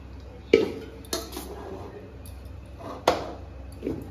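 A spoon knocks against a cooking pot while rice is layered over chicken for home-style chicken biryani, giving a few sharp metallic clinks spaced apart, with quieter scraping in between.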